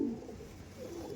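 Andhra pigeons coo in a short, soft, low burst nearby, one brief call settling into faint murmuring, with no voices.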